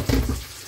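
Cold water poured from a tap over boiled vermicelli in a kitchen sink, a short close gush of splashing and running water lasting under a second.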